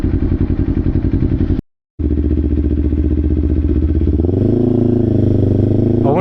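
A Kawasaki Ninja 500 engine drones loudly up close while riding, a steady throbbing pulse that briefly cuts out, then returns and climbs in pitch as the bike gains speed.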